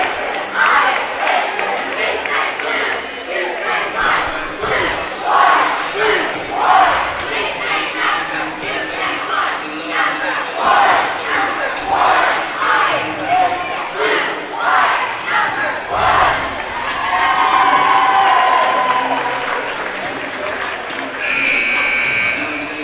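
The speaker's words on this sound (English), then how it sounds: "Cheerleaders getting the crowd up and rowdy" A high school basketball crowd at a Leander Lions vs. New Braunfels Unicorns bi-district playoff game chants and shouts in rhythmic bursts as cheerleaders rouse them, a loud, rowdy gym roar that builds toward the end.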